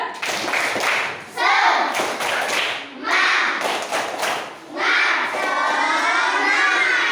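A classroom of third-grade children performs a rhythmic clapping chant, bursts of claps and shouted voices in several loud phrases separated by brief pauses, with a teacher's voice leading.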